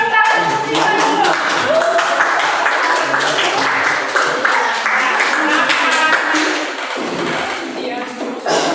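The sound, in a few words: applause for Lisa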